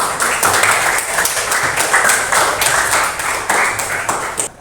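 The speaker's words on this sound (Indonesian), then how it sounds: "Tepuk tangan" A class of students claps hands together at a teacher's prompt during a lesson, steady dense clapping filling the whole stretch before tapering off at the end.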